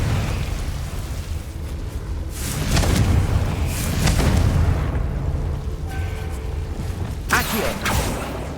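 The Confringo fire spell bursts in Hogwarts Legacy. Several booming blasts with crackling debris roll out over a rumbling low background, and a sharp final burst lands near the end.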